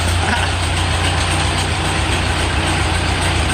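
A World War II era Ford 9N tractor engine running at steady idle with throttle applied: a loud, continuous rumbling drone with constant intensity throughout, close by.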